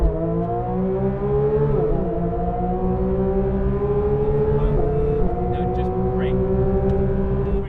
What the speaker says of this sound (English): both vehicles are revving up to right around the same RPM